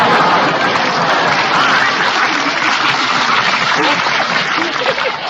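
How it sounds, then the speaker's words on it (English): Studio audience at a 1939 NBC radio comedy broadcast answering a joke with dense, continuous clapping that stays loud and even throughout. "The man got applause with a gag like that"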